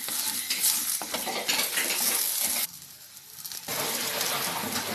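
Tamarind and ginger sauté in a pan for chutney, with a continuous sizzle and repeated scraping stirs of a spoon against the metal, briefly quieter midway before the frying noise resumes at full strength.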